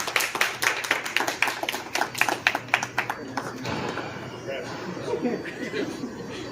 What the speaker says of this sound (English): Can we get a nice round of applause from everybody for TP?